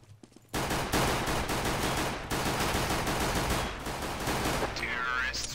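Rapid automatic gunfire in Counter-Strike: Global Offensive rattles loudly and continuously for several seconds after a brief quiet start, ending with a ringing metallic tone.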